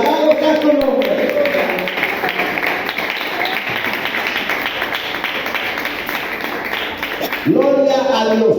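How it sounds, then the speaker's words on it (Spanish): A church congregation claps loudly and steadily for several seconds, with voices mixed in at the start and end. "Dale un fuerte aplauso a Cristo."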